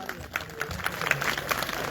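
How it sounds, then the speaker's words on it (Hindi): Applause from the audience at a multi-day Shrimad Bhagwat Katha religious gathering, a dense even patter of many hands clapping for about two seconds with faint voices mixed in. "बस जोरदार तालियां बजा दो सबके लिए"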